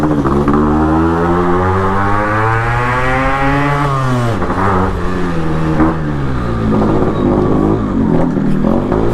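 A Yamaha RX 135 two-stroke, four-speed motorcycle engine revving loudly and close, its pitch sweeping up and down in repeated throttle blips with a raspy two-stroke buzz.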